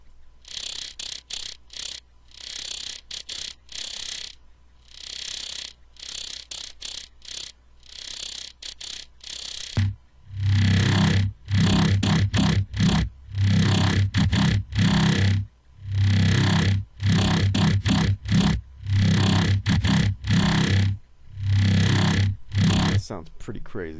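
A gritty, squelchy Arpland synth bass pulses in loud rhythmic bursts, starting thinner and then growing heavier and fuller partway through, with no talking.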